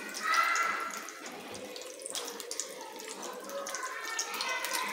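Spicy coated chicken pieces fry in hot oil in a kadhai, giving a steady, close hiss of sizzling with small crackles throughout.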